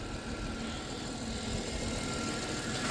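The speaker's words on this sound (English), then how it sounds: "Yeah, that motor sounds so good." A 2000 Chrysler Grand Voyager SE engine idles steadily, a continuous close rumble with no talk over it.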